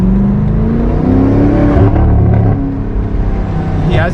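A 1000-horsepower BMW M8 Competition with aftermarket downpipes, X-pipe and headers but stock resonators and mufflers revs hard at close range, its exhaust rising and falling through several loud bursts before settling back.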